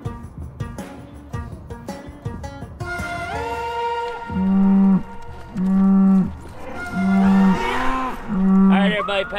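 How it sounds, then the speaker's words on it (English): Cattle lowing in a pen, close and loud: several long, deep moos in a slow repeating rhythm, each a sustained bellow, with some clatter and rustling between calls and no talk. "Cows are in the pen."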